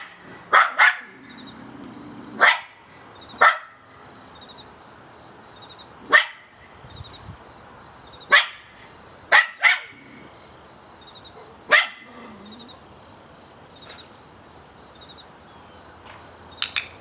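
Several dogs bark from beyond a fence in sharp, scattered single and double barks, moderately close, with faint crickets chirping steadily in the background and no talking.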